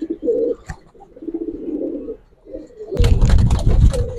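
Giribaz racer pigeons at a loft coo in low, soft, repeated phrases up close, then a sudden burst of loud rustling flutter takes over near the end.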